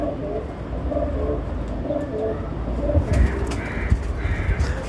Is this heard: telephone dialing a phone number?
no